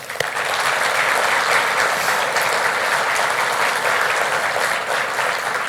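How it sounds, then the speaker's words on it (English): Sustained audience applause at a mayor's State of the City address, dense steady clapping from a large crowd filling the space from start to finish, loud and close with no talk over it. "Let's give them applause."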